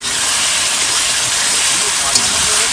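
Food sizzles as it is sautéed in a pan, a loud, even hiss that holds steady throughout.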